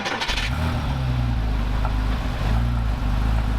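A Porsche 987 Cayman with its stock exhaust, running in cold weather: a steady low engine drone with a brief rev near the start, heard close and alone.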